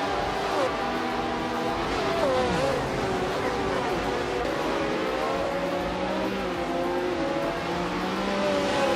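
Matra MS120B 1971 F1 race car engine in a racing game on the reversed Deep Forest Raceway, a loud wavering whine with rising and falling pitch as several cars run close together.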